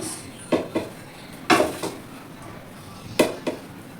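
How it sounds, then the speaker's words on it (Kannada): Churmuri, a puffed-rice snack, being served onto a plate, heard as a few sharp clinks and scrapes of a utensil on the dish spaced apart, with quiet pauses between them. "ನಾನು ಪ್ಲೇಟಲ್ಲಿ ಸರ್ವ್ ಮಾಡ್ತಾ ಇದ್ದೀನಿ"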